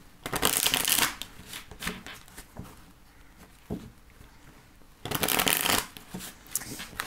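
Oracle cards are shuffled by hand for a card reading, with two loud, close riffling bursts of papery flutter and softer handling taps between them.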